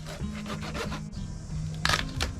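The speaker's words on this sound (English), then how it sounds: "So for this you need a serrated knife or a saw" A serrated knife or hacksaw sawing through a snapper's skull, rough rhythmic rasping strokes up close, ending in a couple of sharper scraping pulls.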